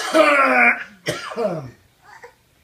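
Young children imitate their father's cough with a few short, rough coughs and throat-clearing sounds. Little voices and giggles follow close by.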